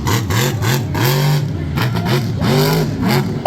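A monster truck engine at a Monsters & Megas event at Lebanon Valley revs hard and close, rising and falling in repeated bursts with a loud, throaty roar.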